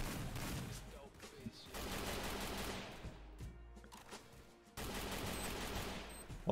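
Gunfire exchange in a mobile battle royale game, a dense continuous rattle of automatic shots and bursts filling the clip, with a voice talking underneath.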